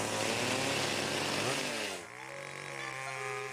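Cartoon saw cutting through thick ice, a loud buzzing drone that shifts pitch and drops in intensity partway through, continuing alone without speech.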